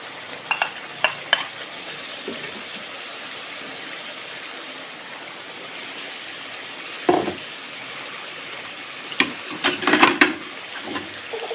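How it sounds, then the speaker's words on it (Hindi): Chicken karahi spices frying in ghee give a soft continuous sizzle, broken near the start and again toward the end by sharp spoon scrapes and stirring knocks, heard up close without talking. "इसको अब मसाले को हम ज़रा घी में इसको अच्छे तरीके से इसको भूनना है"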